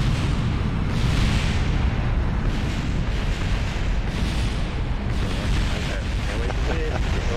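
Rockets exploding in Kerbal Space Program, a dense, continuous roar of rumbling blasts and crackling that stays loud and low-heavy the whole way through, with no clear gaps.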